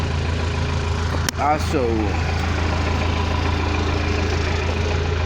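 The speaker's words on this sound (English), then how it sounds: "this is C16 backhoe" A Cat 416B backhoe loader's diesel engine idles in a steady, low, even rumble up close, while someone briefly speaks over it.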